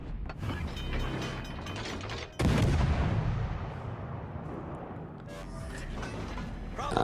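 Heavy naval gunfire from warships in the World of Warships: Legends game, with a loud booming salvo around the middle over continuous mechanical rumble and clatter, then further distant shots near the end.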